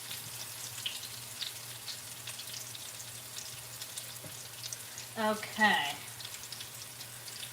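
Turkey meatballs frying in a pan over medium heat give a steady soft sizzle throughout, with a brief louder burst of spattering near the end and a single short spoken word.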